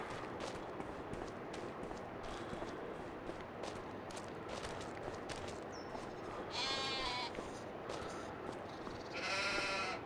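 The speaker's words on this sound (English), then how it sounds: "I hear goats, but I don't see goats." Goats bleat a few times at a distance over steady outdoor background noise, the calls faint and separated by several seconds.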